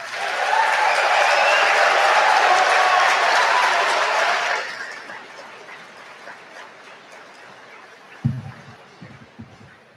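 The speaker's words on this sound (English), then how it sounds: "Let's all give them a round of applause." Audience at an evening military award ceremony applauding, a dense sustained wash of clapping that fades out after a few seconds into quiet room noise with a few thumps.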